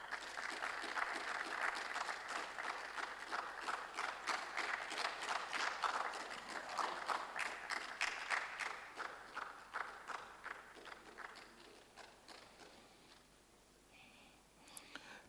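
A crowd applauding steadily for several seconds at a university business contest semi-final, the dense clapping gradually thinning out toward the end, with a few scattered claps lingering.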